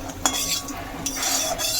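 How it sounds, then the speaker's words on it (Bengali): Peanuts fry in a pan while a spoon stirs them, giving a couple of sharp metallic scrapes and clinks over a faint sizzle, up close and brief. "এখন একটু বাদাম ভেজে নিচ্ছি"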